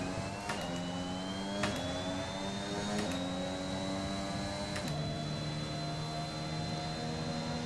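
In the F1 2021 racing game, a Formula 1 car engine revs high near the limiter, a steady whine that repeatedly drops in pitch as gears shift. It plays alone without talk, at moderate volume.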